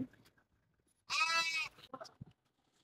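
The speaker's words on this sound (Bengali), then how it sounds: "এখানে দেখেন সব সুদানি দেশের ছাগল" A single Sudanese goat bleats loudly and nearby for about half a second at a market, with faint shuffling and quiet surroundings before and after.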